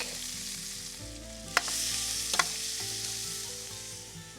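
Onions, red peppers and garlic fry in a 12-inch paella pan on an outdoor grill, a steady soft sizzle with a couple of sharp clinks from a utensil.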